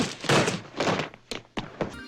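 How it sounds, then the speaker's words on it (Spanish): A couple of magazines are thrown down hard to make a punch sound effect, giving several loud, close, dull thuds in quick succession. "Un golpe equivale a tirar un par de revistas"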